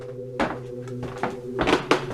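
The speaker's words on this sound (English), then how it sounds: "That drawer!" A drawer slides open on its own in a quiet room, producing a few wooden thunks and scraping knocks spread over two seconds.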